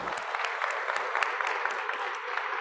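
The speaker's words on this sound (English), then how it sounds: "just want a round of applause" Congregation applauding during a Sunday worship service in a church, steady moderate clapping from many hands with a few sharper individual claps, fairly soft and continuous.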